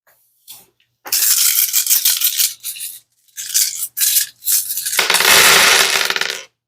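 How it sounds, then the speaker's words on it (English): A die or dice rattling and clattering inside a container, loud and close, with bursts of rapid shaking and scraping separated by brief pauses, ending in a sustained harsh rattle. "So sorry for the loud noises. Also, oh, I forgot that I had my dice in there, my die."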